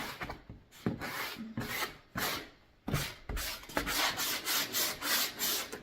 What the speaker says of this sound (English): I'm just going to rough up a little bit of our corners here